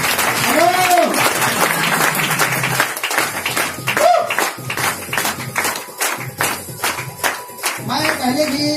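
An audience at an indoor product talk claps in scattered bursts, the applause mixed with someone speaking over a microphone and a few short tonal sounds.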